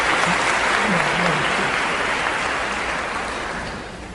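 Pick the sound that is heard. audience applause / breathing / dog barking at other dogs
audience applause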